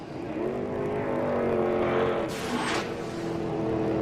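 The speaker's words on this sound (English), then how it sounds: "you can hear the engines as they come by her position down there" Off-road Pro 4 race truck engines drone steadily in a TORC championship race, with one truck sweeping past loudly about midway before the roar settles back to a sustained rumble.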